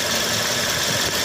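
A 2019 Toyota Vios engine idles with a worn belt and a ticking belt tensioner, giving a steady, dense mechanical drone with faint rapid ticking mixed in. The sound is close, loud and continuous.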